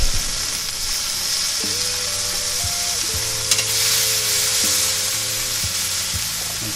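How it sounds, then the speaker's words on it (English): Pork belly burnt ends sizzling on a hot plate: a loud, continuous frying hiss with a low tonal hum beneath it and a short crackle burst midway, and no talking. "Hopefully you can hear the sizzle."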